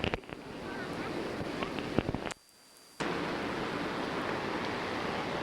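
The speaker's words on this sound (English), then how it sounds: "we'll see all the water flowing over into the gorge" Water of Niagara's Horseshoe Falls on the Canadian side pouring over into the gorge, a loud, constant broadband roar with a short dropout into near silence midway before the roar resumes.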